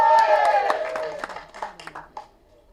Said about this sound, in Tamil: தயவு செஞ்சு நீங்களே ஒரு தடவை கைத்தட்டிருங்க.